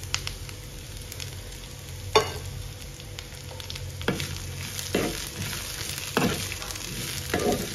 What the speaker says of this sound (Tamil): கொஞ்சம் நல்லா வதக்கி விட்டுக்கலாம்.